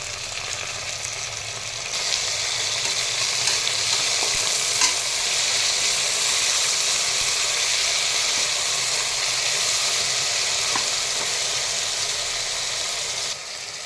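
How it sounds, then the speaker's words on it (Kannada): Tomato and vegetables fry for a vegetable pulao, a loud, steady, close sizzle that runs throughout with occasional stirring scrapes and no talking. "ಈಗ ಅದಕ್ಕೆ ಟೊಮೊಟೊನ ಆ್ಯಡ್ ಮಾಡ್ತಾಯಿದ್ದೀನಿ"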